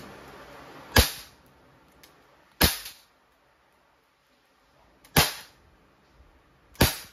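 Four sharp, snappy shots from an Umarex HK45 non-blowback airgun pistol, with metallic pings as pellets pierce a sardine tin, spaced irregularly, close and clear against near silence.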